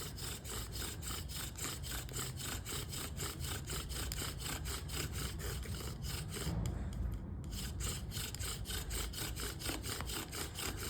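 A bow drill spins a yucca spindle on a cottonwood hearth board in a steady rhythmic back-and-forth rasping, each stroke a close, loud woody scrape, continuing without pause.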